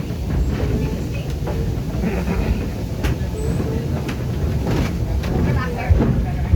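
Heritage railway train at St. Nicholas Abbey in Barbados, a steady rumbling clatter of the running train heard up close throughout, with people talking over it.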